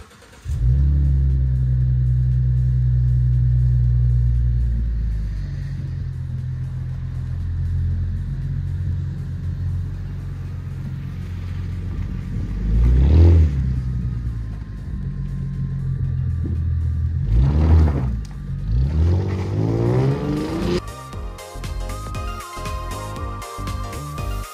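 A petrol Ford Mustang's engine rumbles steadily while driving, with two louder revving surges midway and a shift in tone near the end, no talking over it.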